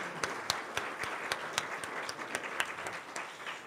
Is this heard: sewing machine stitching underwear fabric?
no